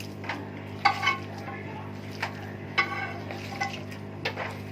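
Bitter gourd mash is stirred together with dried chili, a spoon scraping and clinking against the bowl in a few soft, separate strokes over a steady low hum.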